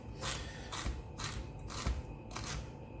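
A knife chops celery on a cutting board in five crisp, evenly spaced strikes about half a second apart, close and fairly loud with nothing else heard.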